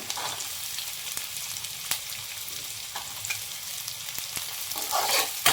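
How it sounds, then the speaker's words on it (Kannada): Chopped onion, carrot and beans frying in a pan with green chillies for an evening snack, a continuous close sizzle punctuated by sharp spatula scrapes and clicks as the vegetables are stirred. "ಇದಿಷ್ಟು ಚೆನ್ನಾಗಿ ಸ್ವಲ್ಪ ಫ್ರೈ ಮಾಡ್ಕೊಳ್ಳೋಣ"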